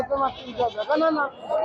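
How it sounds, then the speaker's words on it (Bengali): Goats bleat repeatedly at a goat market crowded with thousands of goats, close and loud, overlapping one another in a busy crowd of animals. "হাজার হাজার সব ছাগল রয়েছে, চতুর্দিকে খালি ছাগল আর ছাগল।"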